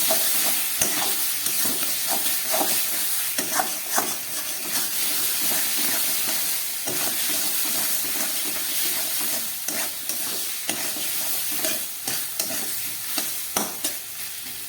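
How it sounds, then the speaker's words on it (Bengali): Spice paste with cumin powder fried and stirred in a pan for a mushroom curry: an unbroken close sizzle with regular scraping strokes of the spatula and no talking. "এবার এটাকে আবার ভালোক্ষণ কষিয়ে নেব"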